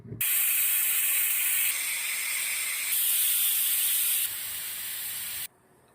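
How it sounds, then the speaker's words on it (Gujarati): A pressure cooker full of dal with spinach releases a loud, steady hiss of steam for about five seconds, its intensity shifting slightly partway through, then drops off sharply. "હવે કુકર બંધ કરી દે, મળીએ 3 સીટી પછી"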